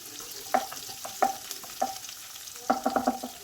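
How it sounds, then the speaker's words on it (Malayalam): Ginger and garlic frying in a pan while being stirred, with a series of sharp spoon-against-pan knocks and scrapes in irregular bursts over a faint sizzle, close by and with no voices. "പിന്നീട് ഒന്ന് ഇളക്കി കൊടുക്കാം."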